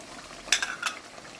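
A spoon stirring ground spices into chicken frying in a pan for curry, giving two brief scraping strokes over a faint steady sizzle.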